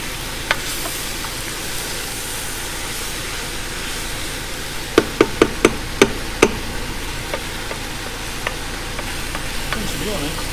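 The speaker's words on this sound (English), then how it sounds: "We've just got the onions cooking as vigorously. So we just brown this up." Beef and onions browning in a Ninja Foodi for beef chilli, a steady close sizzle broken by a quick run of sharp utensil taps near the middle.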